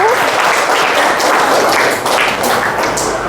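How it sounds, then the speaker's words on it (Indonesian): A seventh-grade class claps loudly for a student group that has just finished presenting in the classroom. The applause is close and sustained, a thick wash of many hands for the whole few seconds. "berikan tepuk tangan yang meriah untuk kelompok 1"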